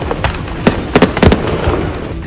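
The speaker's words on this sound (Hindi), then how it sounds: "इसके बाद तो धमाकों की ऐसी झड़ी लगी कि जश्न में डूबे लोगों के रोंगटे खड़े हो गए।" Fireworks and firecrackers explode from a burning truck at a celebration, sharp crackling bursts in a rapid irregular string, loud and close.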